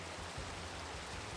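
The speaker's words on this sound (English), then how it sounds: "Hey, look, it's raining again" Steady rain hisses in a Minecraft world, an even broadband patter with a low rumble underneath and no voices.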